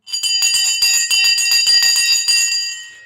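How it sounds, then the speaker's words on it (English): A market opening bell rings continuously for about three seconds, loud and close, with a rapid metallic clatter and no voices. "We're about to ring the bell right now."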